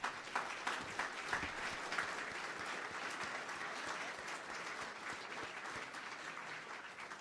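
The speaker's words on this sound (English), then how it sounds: "So let's give you all a big round of applause." Steady applause fills a school celebration evening honoring students and families, with dense clapping sustained at even loudness throughout before easing slightly at the end.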